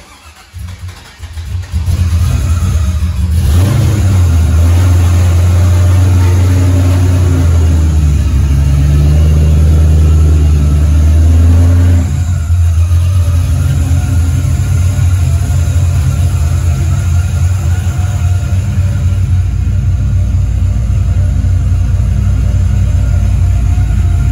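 A 5.3 LS V8 in a Foxbody Mustang with a V-band exhaust cranks and fires on a cold start, then settles into a loud, deep, steady rumbling high idle that sits close and constant.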